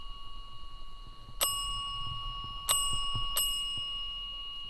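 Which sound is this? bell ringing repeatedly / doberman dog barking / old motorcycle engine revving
bell ringing repeatedly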